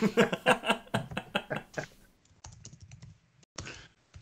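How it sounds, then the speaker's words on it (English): Bursts of quick clicking keystrokes, close and fairly quiet, coming in short irregular runs separated by pauses. "Oh, you can hear me typing."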